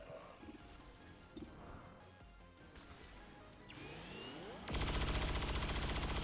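A blast goes off in the XCOM Long War mod, a sudden loud, dense burst that swells and holds its roar for the last couple of seconds, following a cluttered stretch of gunfire and game effects.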